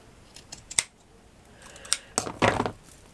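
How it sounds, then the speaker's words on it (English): Scissors snipping off excess craft material while making a Bridgerton-style brooch, a few quick close crisp cuts with short gaps between them in a quiet room. "you cut off all the excess that you didn't need"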